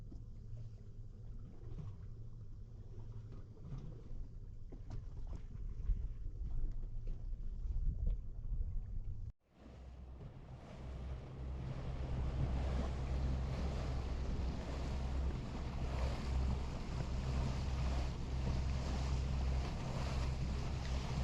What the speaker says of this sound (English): My boat cruises at about 30 miles an hour